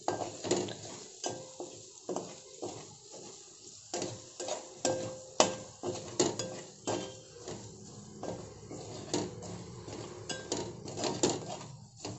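A spoon scrapes and clinks steadily against a pan while spice powder is stirred into a capsicum curry, with irregular metallic knocks and a faint sizzle underneath.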